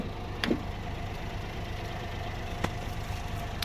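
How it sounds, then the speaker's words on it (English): A 1995 Honda Acty mini truck's engine idles quietly and steadily, a low even hum with a couple of faint clicks. "the truck is still running. It's very quiet"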